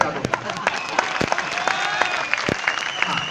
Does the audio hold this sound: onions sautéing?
no